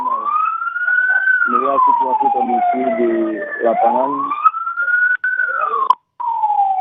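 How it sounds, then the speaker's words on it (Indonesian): Emergency vehicle siren wailing at a landslide search site in Cisarua, a loud, steady rise-and-fall tone that runs the whole time, with someone speaking over it in the middle. "kami baru saja mendengar ada suara sirine"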